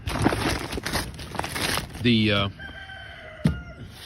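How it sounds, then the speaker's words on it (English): A rooster crows once at a chicken-feed store in South Carolina, a clear rising-then-falling call lasting about half a second, loud and close, following a stretch of rustling and handling noise. "There's a chicken hollering at us, or a rooster."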